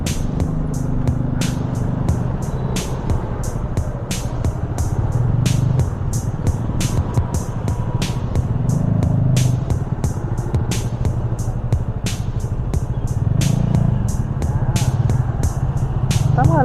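A crowd of motorcycles gathered on a road with engines running, a continuous low rumbling idle with throbbing swells, punctuated by regular sharp clicking ticks, close and fairly loud throughout.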